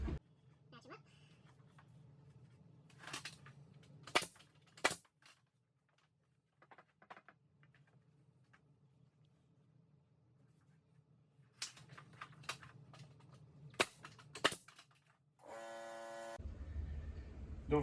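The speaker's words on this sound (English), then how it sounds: "Line your first one up. Fire a couple nails in." A nail gun drives nails into basement wall framing, sharp loud cracks in two clusters of several shots each, separated by quiet stretches with a low hum and some talking.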